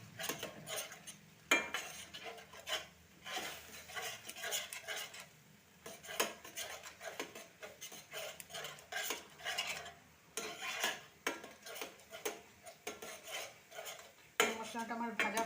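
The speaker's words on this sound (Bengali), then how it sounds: "আবার আমি এখানে একটু সামান্য জল দিয়ে আর একটু ভালো করে এটা মশলাটা কষাবো।" Masala cooking in a pan with a little water and very little oil, stirred with a spoon in repeated scraping strokes and clinks against the metal, under a soft sizzle, close and fairly quiet.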